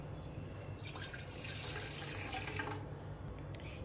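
Water pours and splashes steadily into a metal cooking pot, a continuous close trickling stream.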